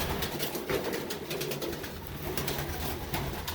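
Homing pigeons coo softly in their loft, low murmuring calls repeating over a quiet background.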